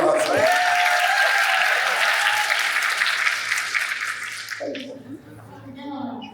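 Audience applause at the Windblume Festival 2024 VO Rodeo, loud and steady for about four seconds, then thinning out as a voice begins talking over the fading claps.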